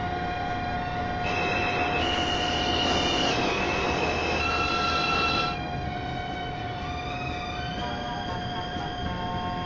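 A New York City subway 2 train pulls into Rector Street station, with loud rumbling wheels and high metallic squeals and tones rising over the steady roar of the cars, then easing as it slows.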